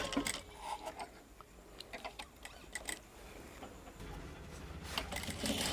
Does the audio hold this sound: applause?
no